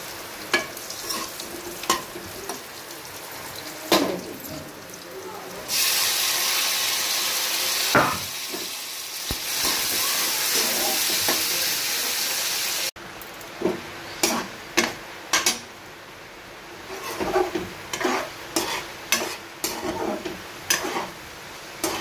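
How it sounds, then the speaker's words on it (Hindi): Potato pieces fry and get stirred in a pan, a hissing sizzle swelling for several seconds between bursts of clicking, scraping stirs, all close and with no talk. "यहाँ पे आलू को फ्राई करके निकाल दूँगी"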